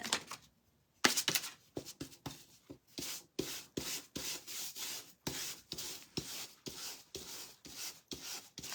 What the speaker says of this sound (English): But I'm going to scrape through the white paint.